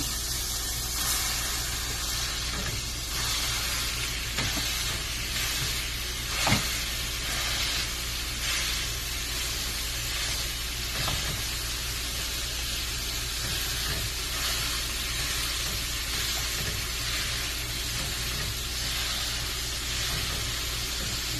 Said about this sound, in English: add this hamburger meat to the pan and start breaking it up. Listen to that sizzle.